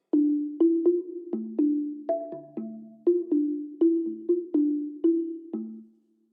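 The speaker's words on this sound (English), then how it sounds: "let me play the same thing with the long reverb" A sequence of plucked or keyed tones played with a long reverb effect, each note ringing out and overlapping the next in a steady, even rhythm before the wash fades away at the end, with no voices.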